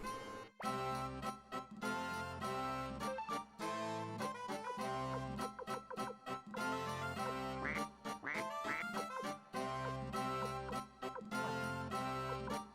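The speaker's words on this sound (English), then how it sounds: "The quack quack!" Suikoden II video game music, dense and loud, with duck quacks mixed into the rhythmic score.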